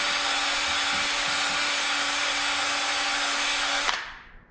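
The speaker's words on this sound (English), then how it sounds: "I just get the old hone. This is the lifter bore hone we talked about." An electric drill spins a lifter bore hone inside a king pin bore on a 1949 Ford F1, a steady high whine that runs continuously and then cuts off, spinning down at the end.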